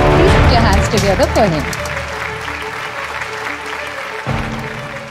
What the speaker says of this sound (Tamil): ஒரு பலத்த கைத்தட்டலுடன் மேடைக்கு அழைப்போம்